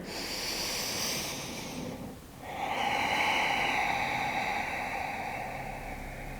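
A slow deep belly breath during a beginner yoga session, drawn in and pushed out as a long, airy, close rush with a short pause between the two, and no one talking.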